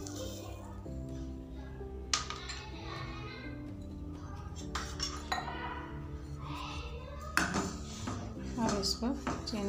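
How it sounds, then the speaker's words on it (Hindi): Rice kheer being stirred with sugar in a pot off the heat, with repeated close clinks and scrapes of a spoon against metal over a steady low hum and background music. "इसको चीनी को मिलाएंगे।"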